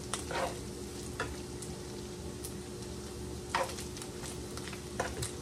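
Ground pork sisig with ginger fries in oil in a pan, giving a faint, steady sizzle broken by a few sharp spatula scrapes and clicks from stirring, with no talking.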